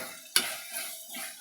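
Grated paneer is stirred into roasting spinach in a pan, making a few close scraping strokes of a utensil over a gentle sizzle.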